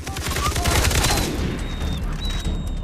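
Dense, continuous gunfire from the video game Far Cry 3, loud and close with rapid overlapping shots and booming low end throughout, with faint voices mixed underneath.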